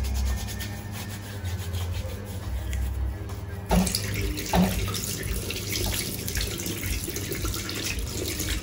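Tap water runs steadily into a sink while hands are scrubbed and washed, a continuous close rushing with soft rubbing, growing fuller and brighter partway through.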